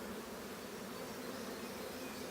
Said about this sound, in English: I didn't realize there were going to be that many bees ready to hatch in there